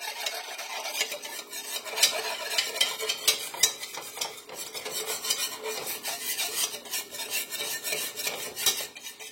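A spoon scrapes a thick flour and butter paste around a metal pot in steady, rasping strokes, close and fairly loud, with small clinks against the pot's sides and no talking.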